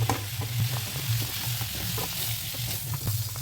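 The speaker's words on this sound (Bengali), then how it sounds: "পুরো তেলটার মধ্যে আমি পাঁচটা মাছ ভেজে নিলাম এই গলদা চিংড়ি" Giant freshwater prawns fry in hot oil, making a steady, dense sizzle with light stirring clicks and scrapes scattered through; no voices.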